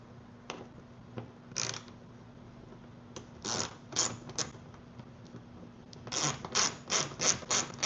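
Small hand ratchet clicking while rigging a Hobie kayak, several short bursts of ratcheting that cluster into rapid repeated clicks near the end, close by with no talk.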